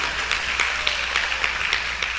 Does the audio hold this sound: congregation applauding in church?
yes